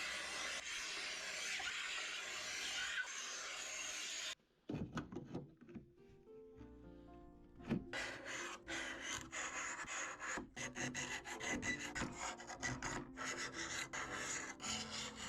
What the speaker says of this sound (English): So now I'm actually going to get back onto scraping down.